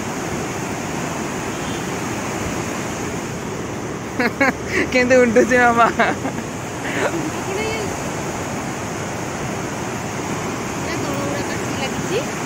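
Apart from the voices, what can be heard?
water rushing forcefully through a gate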